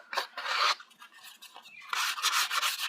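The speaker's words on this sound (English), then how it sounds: "I might take this sanding block and just kind of" A sanding block is rubbed over paper edges in a paper-craft project, giving close, dry scratchy strokes in short bursts with brief pauses between them.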